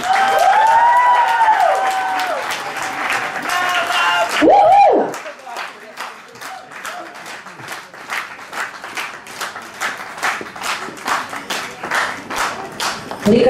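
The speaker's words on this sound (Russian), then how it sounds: "Сегодня у нас аплодисменты." An audience at the opening ceremony of the Moldova Pride festival applauds, loud clapping at first, then a lighter rhythmic clapping that keeps time, with a voice speaking early on.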